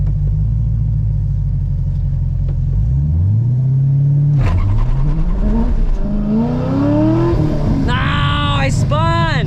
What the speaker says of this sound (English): Alright, good burnout.